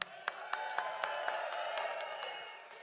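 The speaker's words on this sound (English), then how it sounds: "Wow, what a fantastic crowd." A large crowd at an Alberta sovereignty rally claps and cheers, with rhythmic clapping and a continuous roar of voices at moderate distance, fading slightly toward the end.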